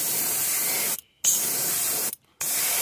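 Aerosol paint sprayed onto a fishing lure held in clamps for a red and pink shad pattern, two steady hissing bursts close by, each broken by a brief pause.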